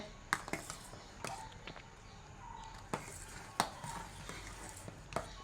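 A spoon stirs nectar soda into payasam made with sago and vermicelli, giving a few sharp clinks against the pot at irregular intervals over a soft, steady background hiss, with no talking.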